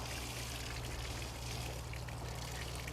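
Water pours and trickles steadily into a car-wash bucket as a wash mitt is wrung out, a continuous close splashing stream with no talk.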